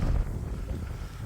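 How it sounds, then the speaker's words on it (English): Strong wind buffeting a microphone beside a fishing lake, a steady low rumbling roar with gusts that stays loud and close throughout. "it's still very windy here"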